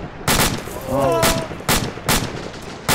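Gunfire sounds off in a tactical video game convoy fight, with several sharp, loud shots spaced irregularly and a brief electronic tone between them, while no one speaks.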